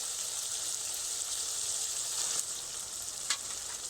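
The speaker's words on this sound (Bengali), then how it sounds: "এইবার কিন্তু জল ঝরানো কচু শাক দিয়ে দেব" Drained taro greens sizzle and fry in hot oil in a pan with steady hiss and crackle, close and continuous, with a couple of brief stirring scrapes.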